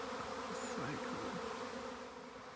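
Honey bees buzz at a hive on a regenerative farm, a dense, steady drone from many insects close by, continuous and fairly loud throughout.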